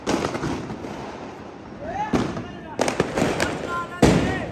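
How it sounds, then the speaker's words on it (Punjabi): Firecrackers burst outdoors during Diwali, several sharp cracks and whistling bangs in quick succession, with people talking and shouting over them. "ਉਹਦੇ ਪਟਾਕੇ ਫੁੱਟ ਜਾਂਦੇ ਆ"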